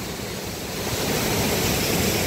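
Roaring Khorshan springs at Bagh-e Rostam in Ardal, a steady broadband rush of water filling the whole clip, loud and close with no voices.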